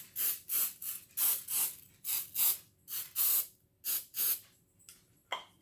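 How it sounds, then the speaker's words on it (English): Cooking spray sprayed onto a larger cupcake pan in a kitchen, a series of about a dozen short hissing bursts in uneven rhythm, close and clear with no talk. "I'm also going to spray my pan"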